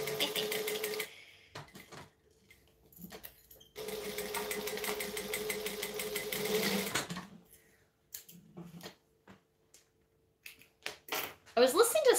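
A sewing machine runs a quarter-inch seam in close, steady bursts of rapid stitching separated by pauses, with a person speaking in the gaps and small clicks and handling noises between runs.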